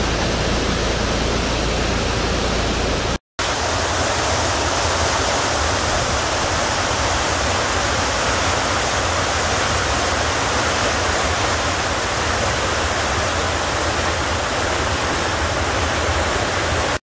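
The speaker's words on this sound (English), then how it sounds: "See all the water?" Rushing water at a waterfall: a loud, constant broadband roar that goes on without a break apart from one brief dropout near the start, with no talking over it.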